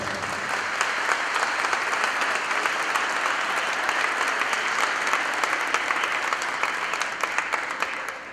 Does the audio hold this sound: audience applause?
yes